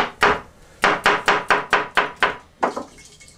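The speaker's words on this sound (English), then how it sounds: "take the cucumber, chop it finely" A knife chops cucumber on a cutting board in sharp, close knocks: a single strike, then a fast even run of about seven chops, then a final quick double hit.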